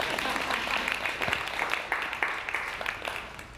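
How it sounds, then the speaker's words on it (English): Audience clapping fills the room, a dense patter of many hands continuing throughout at moderate volume. "You can applaud, it's okay."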